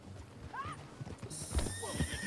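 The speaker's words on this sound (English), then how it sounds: "That new horse?" Hooves clip-clop in Red Dead Redemption 2 beneath a sharp horse whinny and snorting, close and clear across a short stretch of gameplay with a faint ambient hiss behind.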